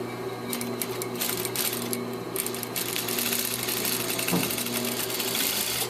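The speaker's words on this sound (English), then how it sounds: "So I'm going to stitch around my entire pocket so I can trim it really close." Sewing machine stitching around a welt pocket, a steady fast mechanical whir with rhythmic needle clatter, close and continuous throughout.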